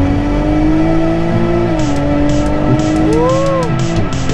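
A new Toyota Supra in manual mode pulls hard in a straight-line performance run, engine tone climbing through the gears with brief shift dips, heard loud from inside the car with faint voices.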